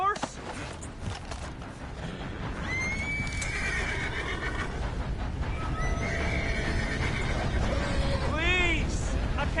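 Horse in the Red Dead Redemption 2 video game neighs and whinnies repeatedly amid hoof clatter and background game noise, with a sharper whinny near the end; a voice speaks briefly.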